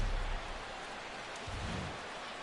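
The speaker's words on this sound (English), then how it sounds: "the rain's coming down pretty good here at Fenway Park in Boston" Rain pours over Fenway Park in Boston in the baseball video game MLB The Show 2016, a steady, even hiss of falling water with a low rumble at the start.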